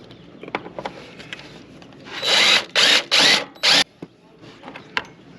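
Power drill driving non-self-tapping screws into a compartment panel while fitting a solar and soft start upgrade to an Alliance Paradigm RV, four loud whirring bursts in quick succession after light handling clatter.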